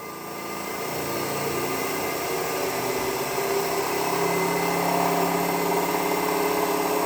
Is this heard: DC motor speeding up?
yes